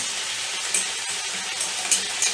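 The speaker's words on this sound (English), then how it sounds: "I am going to make the yogurt paste and whisk it together" A yogurt paste with turmeric powder is whisked in a bowl for a fenugreek chicken dish, giving a continuous close scraping swish with a few sharper clinks against the bowl.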